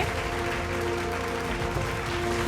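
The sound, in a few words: audience applause at award show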